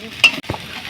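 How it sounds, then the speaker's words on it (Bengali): Onion, carrot and other vegetables sizzle in hot oil for village-style egg chowmein while a utensil stirs and scrapes the pan, with a sharp clack and a steady fry underneath, close up. "দিয়ে সমস্ত উপকরণগুলো ভাজতে থাকবে যাতে সেদ্ধ হয়ে যায়।"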